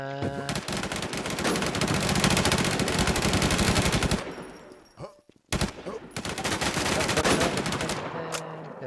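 Rapid automatic gunfire from a PVP shooter video game, loud and dense bursts that break off briefly into a near-silent gap before another sustained volley resumes.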